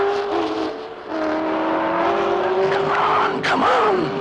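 A racing car speeding round a track, its engine holding a loud steady whine that shifts pitch, ending in a sharp squeal as it swings past, with a voice talking underneath.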